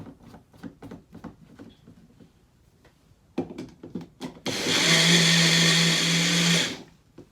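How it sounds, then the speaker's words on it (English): A kitchen blender with its agitator blade at the bottom runs loud and steady for about two seconds, after several knocks and clatters of preparation. "Because being that this is a blender, you only have the agitator on the bottom"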